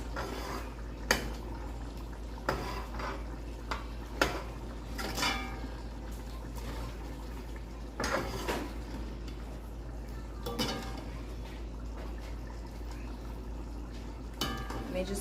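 Trinidad curry chicken and potato being mixed in a pot, with a spoon knocking and scraping against the metal in scattered clanks over a low background of simmering.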